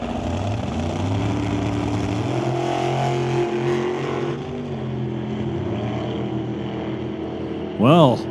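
Old-time drag racing car at a raceway, a loud engine droning steadily with rising and falling pitch as the throttle eases off, then a sharp high rev near the end, with other engines under it.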